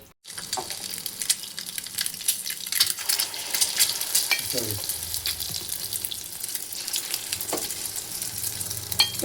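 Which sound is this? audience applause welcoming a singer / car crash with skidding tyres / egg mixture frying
egg mixture frying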